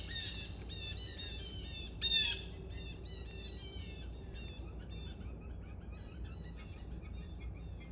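Blue jays calling in a backyard in the early morning, a series of harsh squawks and short calls from a moderate distance over a faint steady background, with one louder call partway through.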